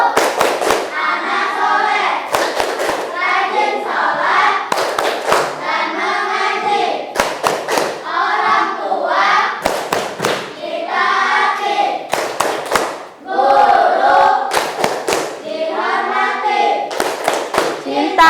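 A class of schoolchildren performs the 'tepuk anak soleh' clapping chant, with loud, sharp rhythmic claps punctuating group chanting voices close by throughout.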